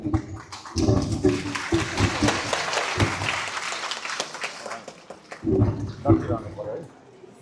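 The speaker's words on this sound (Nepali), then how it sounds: "ताली बजाइदिउँ एकचोटि फेरि है।" An audience claps at a public gathering in Dharan, Nepal, the applause swelling and dipping for several seconds while someone talks over it.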